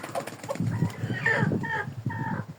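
A white domestic hen with a beard and feathered legs clucks close by, giving a quick string of short, throaty calls over a couple of seconds.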